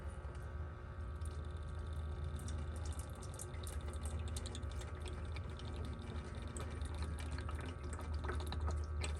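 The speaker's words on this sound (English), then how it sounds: "open up that valve and drain out the diesel right into your drip pan" Diesel drains steadily from the opened valve on the fuel filter of a 2018 Ram 2500 into a drip pan, a continuous trickling, dripping flow heard close up over a low steady hum, with no talking.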